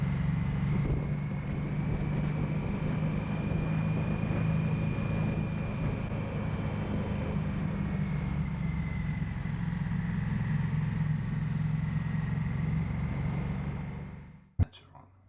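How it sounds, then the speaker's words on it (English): A steady low engine rumble with a long sustained drone of passing traffic fills the scene, continuous and fairly loud, ending with a sharp thump and abrupt drop near the end. "we've got some traffic"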